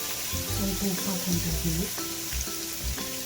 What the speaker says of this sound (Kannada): 6 ಮೊಟ್ಟೆ ತೊಗೊಂಡಿದ್ದೀನಿ. ಇದನ್ನ ಹಾಕ್ಕೊಂಡು ಫ್ರೈ ಮಾಡ್ಕೊಳ್ಳೋಣ.